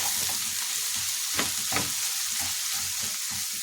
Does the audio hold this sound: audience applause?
no